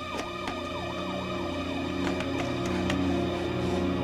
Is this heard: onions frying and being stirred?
no